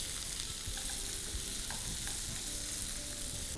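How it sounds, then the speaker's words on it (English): Masala sizzles and crackles steadily in a hot pan while being stirred, with soft scraping strokes of the spoon under a continuous frying hiss, with no talking. "I'm going to dip in the masala that we made into the pan. And we want to mix this in nicely."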